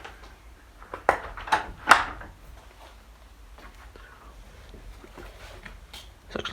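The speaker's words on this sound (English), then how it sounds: "Shut the door." An outbuilding shed door swung shut, a couple of sharp knocks and a thud in a quiet room, with faint shuffling afterward.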